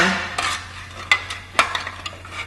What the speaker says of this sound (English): you're going to want to use that screwdriver or piece of metal stick apparatus and just use it to flip out the ends